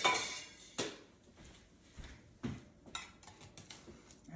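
Kitchen utensils clattering as a spatula is grabbed, a few sharp metallic clinks and knocks at close range, irregularly spaced with quiet gaps.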